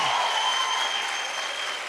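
Audience applause at a church service fills the space as a steady, dense wash of clapping, loud and continuous, tapering slightly toward the end with no talk over it.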